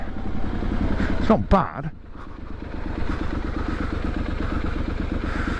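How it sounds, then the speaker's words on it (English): A Triumph SS 900 motorcycle with a new exhaust runs close by, giving a steady engine drone and one sharp burst near the middle, while someone speaks briefly over it. "That new exhaust pops and bangs a little bit, doesn't it?"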